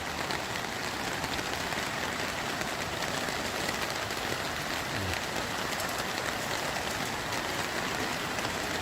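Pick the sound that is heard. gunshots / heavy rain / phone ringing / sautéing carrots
heavy rain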